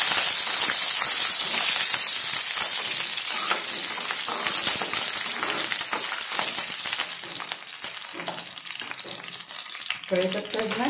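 Curry leaves crackle and sizzle loudly in hot oil in a pan while sabudana khichdi is being made, a dense frying hiss that eases slightly, with stirring clinks near the end.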